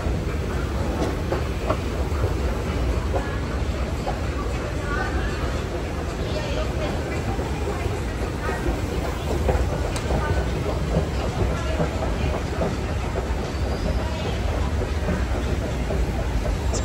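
A New York City subway train at Roosevelt Island gives a continuous loud rumble with rattling, clattering wheels for many seconds, while people talk over it.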